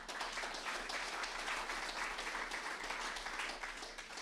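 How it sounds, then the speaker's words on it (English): A round of applause at an annual general meeting, many people clapping in a steady, even patter that fills the room at moderate volume, with no talking over it. "a round of applause to Don and for all the work he's done for healthcare and the Van Haverbeek family"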